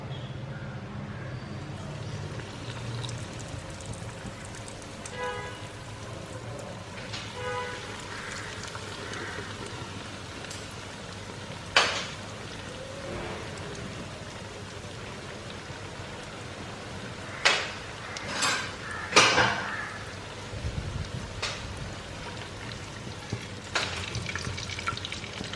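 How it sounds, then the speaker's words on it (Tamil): Breaded chicken katsu pieces frying in hot oil in a home kitchen give a steady soft sizzle and crackle throughout, with occasional louder pops and clatters of utensils near the pan. "இப்போ ஆயில் வந்து ஹாட்டாக இருக்குது. இதில் வந்து சிக்கனை போட்டுடலாம்"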